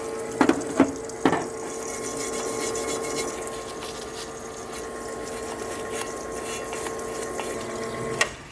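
Running water rinses a clutch part from a Honda CBX motorcycle, a steady close hiss and splash from a tap with a few sharp clicks and knocks near the start and end.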